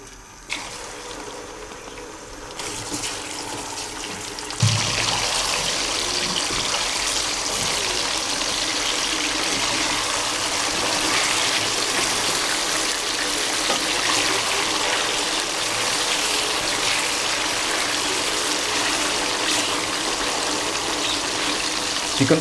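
Raw chicken pieces, freshly salted, sizzling in hot oil in a karahi for charsi chicken karahi, a steady broadband hiss that jumps up loudly a few seconds in as the meat hits the oil and then holds constant with no talking.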